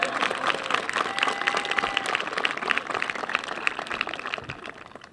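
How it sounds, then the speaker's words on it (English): An audience at the 2014 Monson High School graduation ceremony gives a full round of dense applause that holds steady, then thins and fades near the end, with no talking over it. "Could y'all just give a round of applause to cover my lapse?"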